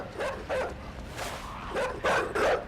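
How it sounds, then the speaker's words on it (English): Dogs bark repeatedly in the side-scrolling video game Inside, a run of sharp yaps and bow-wows at moderate distance that come in clusters across a few seconds. "Here's some dogs."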